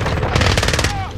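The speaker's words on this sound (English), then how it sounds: "Under hostile fire!" Rapid automatic gunfire in the video game Warzone rattles off in a fast, loud, close burst lasting about a second.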